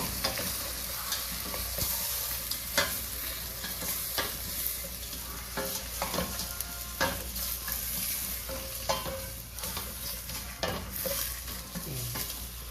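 Prawns and corn sizzle in a pan while being stirred, a constant close frying hiss with repeated scraping and knocking of the utensil, and no voices.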